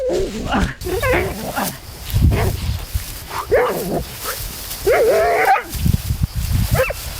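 A police dog barks and yips in short bursts with whimpering between, close by, while people talk and exclaim around it.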